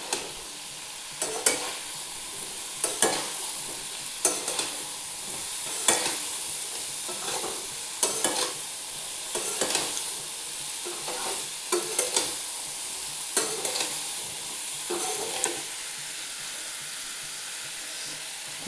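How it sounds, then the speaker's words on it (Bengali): Boiled papaya, chickpeas and potatoes sauté in a pan as a spoon stirs them, each scrape and toss rising over a low, steady sizzle at regular intervals, close up and with no talking. "এবার ভালো করে কষিয়ে একটু জল দিয়ে"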